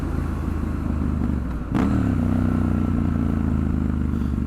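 A Triumph Scrambler 1200 XE motorcycle engine drones steadily while the throttle is pulled further, its level dipping slightly and then rising into a fuller, stronger hum as it pulls, heard close from the rider's position with no talking.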